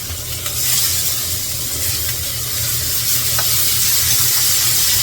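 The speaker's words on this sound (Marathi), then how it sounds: "अर्धा चमचा जिरं घातले लसूण मिरची कढीपत्ता एकत्र टाकते मी कांदा टाकते" Chopped onion dropped into hot oil with half a spoon of cumin, garlic, green chili and curry leaves for a chana masala, giving a steady loud sizzle and hiss throughout, close up and without speech.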